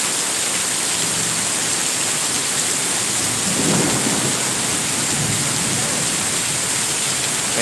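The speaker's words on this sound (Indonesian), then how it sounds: "Petir-petir semakin besar." Heavy rain pours in a dense, steady hiss during a daytime thunderstorm, with a low rumble of thunder swelling briefly midway.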